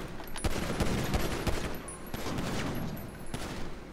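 Gunfire in a GTA Online Humane Labs deathmatch, rapid bursts and scattered shots crackling close and loud over steady background game noise for several seconds.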